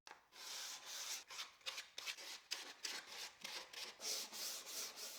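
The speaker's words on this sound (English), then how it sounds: "I will manually sand with 220 grit sandpaper, mainly on the corners" Hand sanding of pine wood with 220 grit sandpaper, mostly on the corners: a steady run of short, scratchy back-and-forth strokes, close and fairly soft, with no voices.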